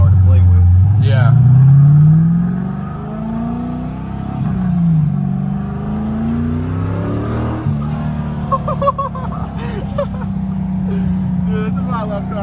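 A Toyota FRS with a swapped LS V8 accelerates hard from inside the cabin, the engine note rising steeply, dropping at shifts and climbing again, loud and close, with voices talking over it.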